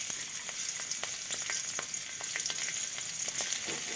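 Green chili, cumin seeds, cardamom, cinnamon and cloves fry in hot oil with a steady, close sizzle, punctuated by regular small taps and scrapes of stirring.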